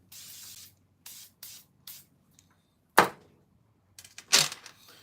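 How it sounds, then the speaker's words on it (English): Several short hissing sprays of silicone aerosol on fishing sinkers and split shot, close by, with brief pauses between bursts and a couple of stronger blasts near the end. "Spray this with some silicone spray."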